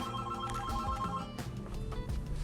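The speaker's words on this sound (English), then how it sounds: "Let me get in here where the phone ain't ringing." An electronic telephone ringtone trills in repeated bursts, fairly close and clear, with no talking over it.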